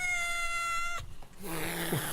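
A cat meows during a radio station's speaker channel test: a long tonal meow, a short pause, then a lower, drawn-out meow ending in a sharp upward yowl, close and clear with no talk over it.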